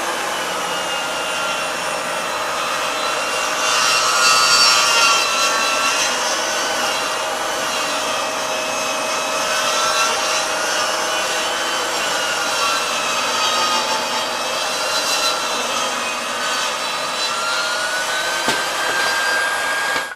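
A SawStop 10-inch compact table saw cuts through wood with a steady, loud whine and rushing motor noise that holds for the whole stretch, with no voices over it.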